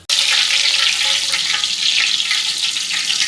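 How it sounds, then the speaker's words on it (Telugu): Curry leaves hit hot oil and burst into a loud, steady sizzle that crackles on close by, with no voices, while a snack mixture of flattened rice is being made. "ఇప్పుడు దీనిలో కరివేపాకు కూడా వేయించేసుకుందాం."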